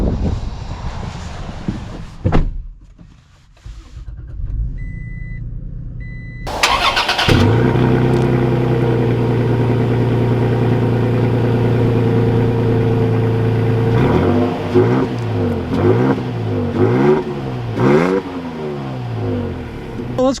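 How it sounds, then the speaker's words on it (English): A 2021 Toyota Tacoma Limited Nightshade pickup truck starts up and drives off, its engine settling into a steady loud drone with rising and falling revs near the end, heard from inside the cab without talking. "let's take this Tacoma out and see how it drives."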